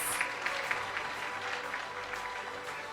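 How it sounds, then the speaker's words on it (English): An audience applauds award winners at a university excellence awards ceremony, a steady wash of clapping that holds at an even level for the full three seconds without any talk. "Can we give them a round of applause?"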